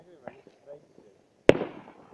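Fireworks burst with one sharp, loud explosion at a New Year's celebration, its crackling rumble trailing off, after soft talk from nearby people.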